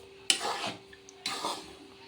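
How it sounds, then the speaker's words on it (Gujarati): A spoon scrapes through ladoo batter in a pan over a low flame, two distinct stirring strokes with a faint sizzle underneath. "અને આપણે ધીમા ગેસે સખત હલાવતા રહેવાનું છે"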